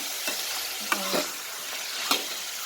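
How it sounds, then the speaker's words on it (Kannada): Chicken frying in oil in a pan while being stirred, with a steady sizzle and a few sharp scraping strokes of the spoon, close and alone with no talk. "ಫಸ್ಟೇ ಆಯಿಲಲ್ಲಿ ಇದು ಫ್ರೈ ಮಾಡ್ಕೊಳ್ಳೋಣ, ಸ್ವಲ್ಪ ಬೇಯಿಸ್ಕೊಳ್ಳೋಣ"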